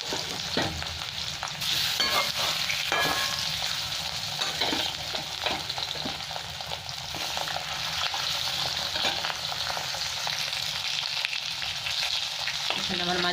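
Fish pieces frying in hot oil in a Bengali home kitchen, a continuous close sizzle and crackle that holds steady throughout with no talk over it.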